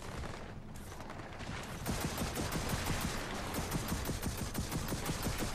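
Rapid automatic weapon fire from an unknown alien-type gun in Gears of War 4, a dense, loud stream of repeated shots growing steadier and heavier after the first couple of seconds.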